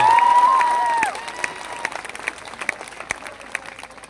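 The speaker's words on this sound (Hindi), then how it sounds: "अब इस बात पे ताली उठनी चाहिए।" Audience clapping at a live Hindi poetry gathering, a burst of many hands that starts over a fading sustained tone and then thins into scattered, sharp individual claps before dying away.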